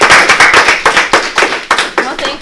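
A small audience at a Toastmasters evaluation session claps in a brief, lively burst, sharp overlapping hand claps rising and fading in several quick waves, close and fairly loud.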